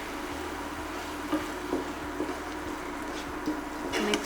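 Spices with garam masala powder being mixed in a hot pan: a soft continuous sizzle with light scraping and stirring clicks at irregular intervals, close and moderately quiet.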